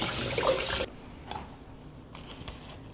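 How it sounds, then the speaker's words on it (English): Tap water runs loudly over cauliflower and broccoli being washed, then cuts off abruptly after under a second, leaving faint splashes and drips. "you want to thoroughly wash your vegetables"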